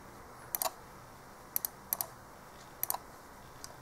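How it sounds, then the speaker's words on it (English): Keys on a keyboard connected to a Galaxy S3 phone are tapped in small clusters of sharp, close clicks with pauses between, over a faint, steady room hiss. "You can also type on the keyboard."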